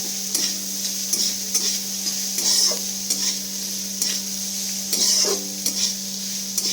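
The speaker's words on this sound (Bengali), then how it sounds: "এখানে তেলে এবার আমি পেঁয়াজ কুচিটা ফার্স্টে অ্যাড করে দেবো পেঁয়াজটাকে একটু ভালো করে লাল লাল করে ভেজে নিতে হবে" Finely chopped onion frying in oil, a steady close sizzle punctuated by regular scraping and stirring strokes of a utensil against the pan, with a constant low hum beneath.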